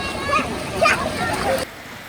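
Water splashing and rushing at Narangathode waterfall in Kerala, a steady close wash of spray with people talking over it, ending abruptly.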